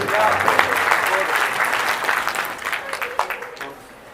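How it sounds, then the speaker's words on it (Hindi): An audience at a religious gathering at a samadhi site bursts into steady applause, loud and full at first, then thinning into scattered claps with a voice speaking over it as it fades. "बहुत बहुत तालियों से"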